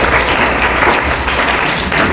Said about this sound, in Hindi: एक बार ताली बजा के स्वागत।